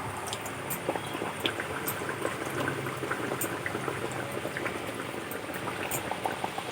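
A vegetarian Mughlai paratha fries in hot oil, a dense, even bubbling and crackle that holds steady up close without pause.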